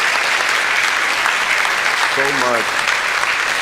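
An audience claps at a panel discussion event, dense steady applause filling the room throughout, with a brief voice cutting in near the middle.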